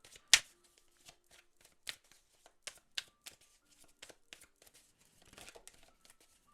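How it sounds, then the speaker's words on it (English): Tarot cards being shuffled and pulled close up: sharp riffling bursts and crisp flicks of card stock with short pauses in between, ending in a brief rustling flurry; no one speaks. "Let's actually pull a couple more tarot cards."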